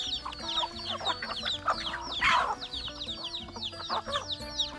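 Several chickens cluck and chatter nearby in busy, overlapping bursts as they eat alongside ducks, with brief squawks among them; no talking.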